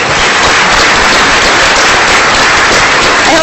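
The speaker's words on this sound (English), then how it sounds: "Let's all give a round of applause to everyone that made tonight possible." Dinner audience at an economic and investment forecast event claps in a loud, dense, unbroken roar of many hands that holds steady throughout.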